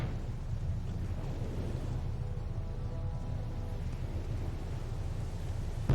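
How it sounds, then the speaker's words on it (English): Torpedoes explode against a ship in the naval video game Victory at Sea Pacific as a low, rumbling roar that fills the whole stretch, steady and heavy with no clear separate blasts. "Here comes the torpedoes."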